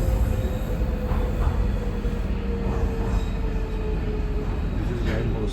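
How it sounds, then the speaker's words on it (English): A c2c national rail train runs steadily on the line toward Southend, a continuous loud rumble of wheels and carriage with faint squeals, while a voice talks over it. "So that train is C2C, national line."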